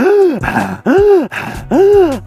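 A person breathing hard and fast through the mouth after running a lap, making three loud, voiced, rhythmic gasping breaths close up, as though demonstrating heavy panting.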